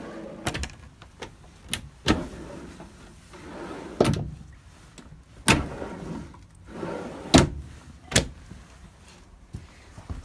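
Full-length drawers in a Rockwood RV slide open and shut again and again, giving sharp knocks and thuds at uneven intervals, close and fairly loud, with quiet rustling in between.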